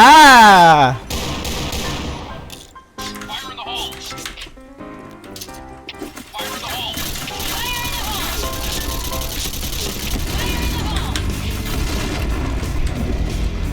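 Machine gun fire and booming explosions in the shooter game Point Blank on a Thai server, arriving as loud bursts and rattling volleys mixed with game effects, while someone talks over much of the action.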